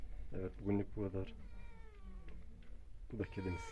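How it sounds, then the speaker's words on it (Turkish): A house cat meows in a drawn-out, wavering call, close by, between bursts of people talking in a home setting. "Bu da kedimiz."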